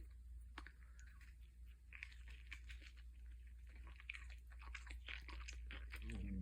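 Someone chews a mouthful of sausage and mushroom pizza close up, with soft crunchy, clicky bites repeating irregularly through a quiet hum.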